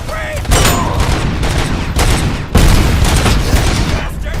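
Gunfire in the video game RoboCop: Rogue City bursts out in loud, rapid volleys, with two heavy surges of shots and booming impacts close by.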